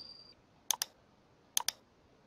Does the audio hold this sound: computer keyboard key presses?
yes